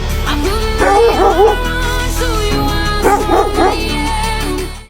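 A pet dog cries out loudly and close by in short, yelping barks and whimpers, grouped in two bursts with a tonal background between them.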